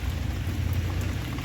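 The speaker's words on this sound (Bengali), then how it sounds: "এই কদিন বৃষ্টি হব হব করে আর হচ্ছিল না, তো আজকে মুষলধারে বৃষ্টি" Heavy monsoon downpour falling outdoors, a dense, steady roar of rain close by with no breaks.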